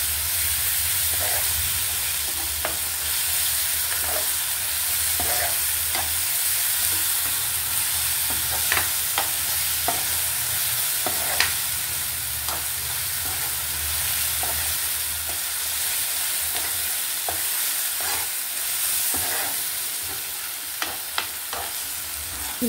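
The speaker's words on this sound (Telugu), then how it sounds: "ఇప్పుడు పచ్చిమిర్చి కూడా బాగా వేగాలి ఉల్లిపాయల్లో" Green chilli paste fries with onions in a pan for an egg curry, giving a steady close sizzle and hiss with occasional light stirring clicks, and no talking.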